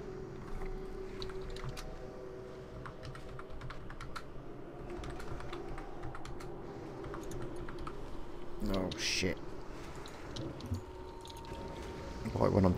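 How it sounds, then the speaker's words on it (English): Computer keyboard typing during World of Warcraft Classic play, quick irregular key clicks at low level, joined near the end by louder clacks and bumps. "Typing."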